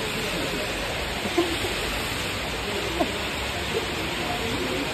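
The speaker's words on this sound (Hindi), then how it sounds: "और ये बारिश वापिस तेज हो चुकी है।" Heavy rain during a storm, a constant hiss of falling water with a few faint taps and clicks, moderately quiet and without talk.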